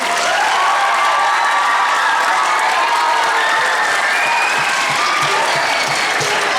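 A large crowd claps loudly and continuously for a school wind ensemble, a dense wash of applause with a few cheers mixed in, sustained throughout.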